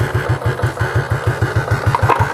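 A motorcycle running on a capacitor fitted in place of its battery fires up into a rapid, even idle thump, loud and close, with a steady rhythmic pulse throughout and no talking.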